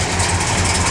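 1967 Plymouth GTX V8 running on pump gas, a loud, steady, deep rumbling idle heard up close for about a second with no talking.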